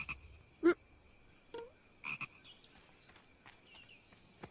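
A cartoon guard frog croaks in a few short, distinct calls spaced apart, with quieter background chirps and no talking.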